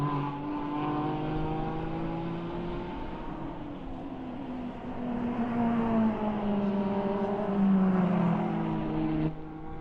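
Audi R8 and BMW M4 GT3 race cars circulating at Autodrom Most during a GT endurance race, engines droning and shifting pitch as they pass at a moderate distance, a steady mechanical roar with no voices.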